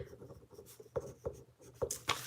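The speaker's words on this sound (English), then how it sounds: "let me write down names here." A pen writes names on paper in short, close scratchy strokes with a few sharper taps, quiet and intimate, with no talking over it.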